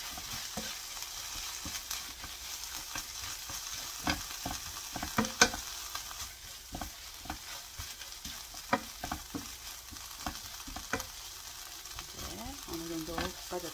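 Dried chwinamul greens stir-fry with soup soy sauce in a pan, giving a continuous soft sizzle. Frequent scraping stirs and light utensil taps run through it, with no talk.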